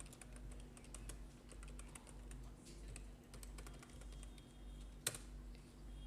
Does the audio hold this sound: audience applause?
no